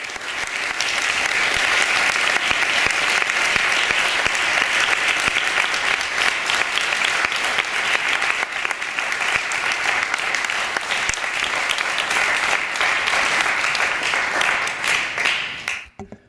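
Sustained audience applause welcoming Taylor Branch onto the stage at an evening history talk in Brooklyn, loud, even clapping from a large crowd that swells and then tapers off abruptly at the end.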